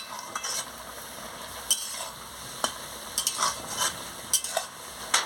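Boiled ivy gourd, potato, brinjal and amaranth stems are stirred in a pot with a spoon, giving scattered scraping clinks and soft sizzling bursts over quiet background, with no talking.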